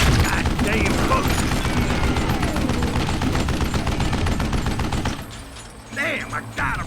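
Gunfire in Call of Juarez: Gunslinger, dense rapid volleys of loud close shots for about five seconds, then a pause and a few scattered shots, with a voice shouting over the shooting.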